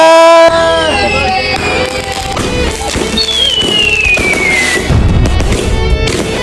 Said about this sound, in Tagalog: Papaputok na tayo ng fireworks